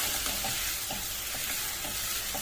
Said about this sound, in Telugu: ఇది మొత్తం ఆయిల్లో బాగా ఫ్రై చేయాలి